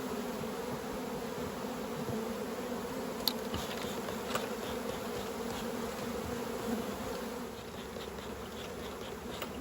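Honey bees buzz around an open beehive during autumn hive work, a dense, steady, close-up drone that continues throughout with no one speaking.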